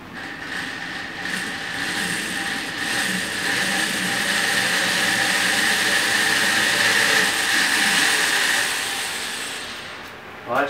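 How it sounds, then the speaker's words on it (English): A power drill with a small bit bores a hole to mount a go-kart seat, its steady whine running continuously for about ten seconds, loud and close, with no talk. "I'm going to go ahead and drill the first hole, and hopefully it goes well."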